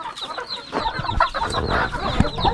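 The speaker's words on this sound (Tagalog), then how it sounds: "Gustong kumain ng manok." Chickens cluck repeatedly nearby on a farm, a busy run of short clucks and squawks with no one speaking.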